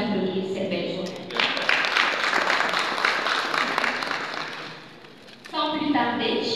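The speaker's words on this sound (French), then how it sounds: "Merci d'applaudir cette belle journée." Sustained crowd applause swells and fades over several seconds, with a speaking voice before and after the clapping.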